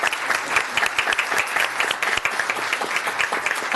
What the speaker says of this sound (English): He needs a round of applause.